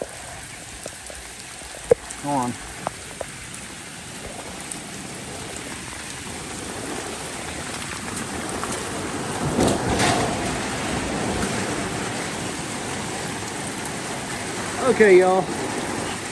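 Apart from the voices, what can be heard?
heavy rain pouring outside a metal shed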